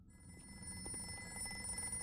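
An in-game telephone rings in a dungeon-themed video game, a quiet, continuous electronic ringing tone sustained over a low background hum, with no voices over it.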